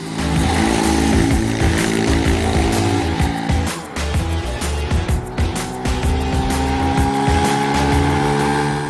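A 125cc urban trail-style motorcycle on knobby Kenda tyres rides along an asphalt road, its engine droning loud and close, with a gear change dip midway before the revs climb again steadily.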